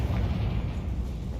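A Confringo fire spell bursts in Hogwarts Legacy with a dense, rumbling blast that fills the moment, loud and close, with no voices over it.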